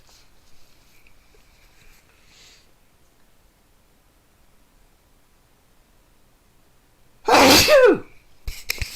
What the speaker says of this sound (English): I knew that sneeze wanted to come out.